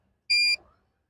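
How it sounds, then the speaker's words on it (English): The motor mover on a 2023 Swift Base Camp caravan gives a single loud electronic beep, lasting about a quarter second, when its drive cog engages against the tyre. The beep trails off into quiet mechanical rumble. "Once that cog is in place, the system will beep to let me know."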